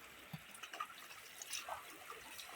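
Water of a full river at a riverside bathing spot flowing and trickling steadily, soft and close, with small splashes and no talking.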